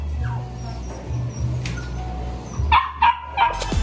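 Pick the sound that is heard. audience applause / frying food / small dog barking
small dog barking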